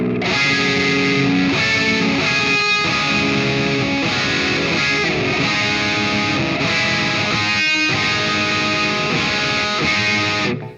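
Heavily distorted electric guitar, tremolo picked, plays through a progression of complex chords, loud and continuous with regular chord changes and no voices.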